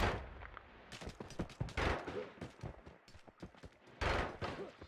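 Rapid gunfire bursts from a weapon in the game Noita, loud sharp cracks in short clusters with brief gaps between them, filling most of the moment.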